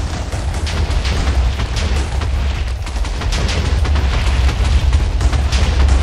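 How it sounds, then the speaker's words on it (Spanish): Rapid, continuous explosions in Minecraft during PvP on the 2b2t server: loud overlapping booms and blasts that come in thick, unbroken succession for several seconds with no pause. "Ahí las explosiones."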